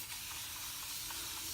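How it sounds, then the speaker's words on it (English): A spray bottle mists water onto damp natural hair during a wash-and-go styling routine, a steady soft hiss throughout, close but quiet. "you can spray it with a little bit more water if you want to"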